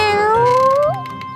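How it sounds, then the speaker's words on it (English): A gray kitten in a children's cartoon gives one clear, close meow that rises and falls in pitch, alone with no talk. "Look, it's a gray kitten."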